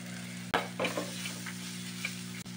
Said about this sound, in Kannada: ಟೊಮೆಟೊ ಚೆನ್ನಾಗಿ ಫ್ರೈ ಆಗಿದೆ.